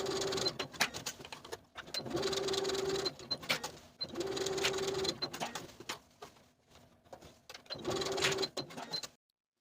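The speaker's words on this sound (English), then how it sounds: "using about a 3/8-inch seam allowance, we're going to baste the top and side edges in place." Sewing machine basting skirt pockets, running in several bursts of rapid stitching separated by short pauses, close and clear with no talking.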